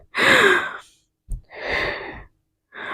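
A child draws deep breaths, three audible sighing gusts of air close up, the first long, then a brief catch and another long exhale, with a short one at the end.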